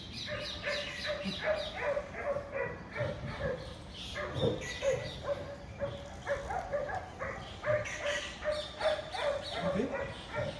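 Dogs bark repeatedly in a rhythmic series, mixed with yips and whimpers, heard under people talking during a Hindi stage drama rehearsal, with a steady tonal hum running through.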